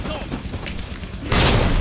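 A grenade goes off in the Resident Evil 2 video game: a loud, broad burst of noise hits near the end, following a stretch of busy game sound and an excited voice.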